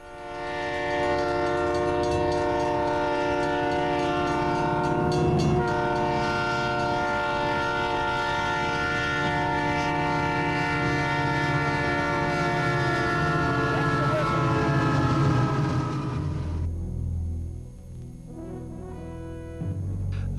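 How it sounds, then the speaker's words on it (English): A train nears a level crossing and sounds a long, loud, sustained horn blast over the steady rumble of its wheels and cars; the horn cuts off near the end, leaving the lower rolling noise of the train. "The video seen here documents sound levels and the speed of an approaching train to a crossing."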